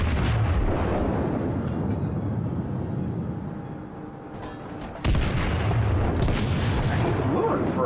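Heavy naval gunfire and explosions from a war video game roll on continuously and loud, with a sharp new blast about two-thirds through, under a voice.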